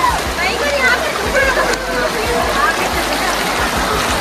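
A fast-flowing, cold mountain stream at Guchhu Pani near Dehradun rushes loudly and continuously, with close splashing and sloshing and voices faintly mixed into the steady roar.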